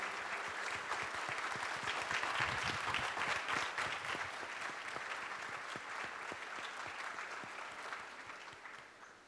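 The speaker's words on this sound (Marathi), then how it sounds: "टाळ्या वाजवा त्यासाठी." A church congregation claps for a girl who won a prize at an inter-school sports championship, sustained even applause from many hands in a large room, gently tapering toward the end.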